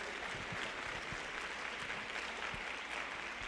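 An audience at a public education forum claps for a group of educators, a fairly faint, even patter of applause that continues steadily throughout.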